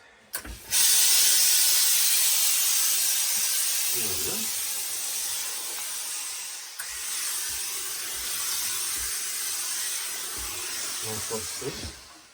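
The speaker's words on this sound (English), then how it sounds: "What I'm going to do is introduce some steam now." A steady, loud hiss of steam from a hat steamer runs for about eleven seconds after a brief click, with faint low rustles beneath it as steam lifts the pile on a hat.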